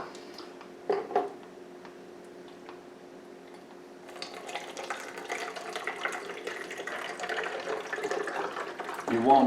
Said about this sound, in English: Let me try to pour this out right quick without making too big a mess.